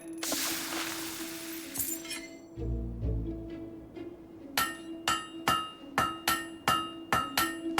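A blacksmith hammers a blade on an anvil in the Fable 3 video game. After some faint clatter and a low rumble come about nine sharp, ringing metallic strikes at a brisk, regular pace.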